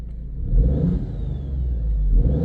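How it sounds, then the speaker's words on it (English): A twin-turbo car engine revs close and loud, a steady rumbling drone with a faint rising turbo whine over it, swelling twice across the short burst. "You can hear the turbo a little bit more."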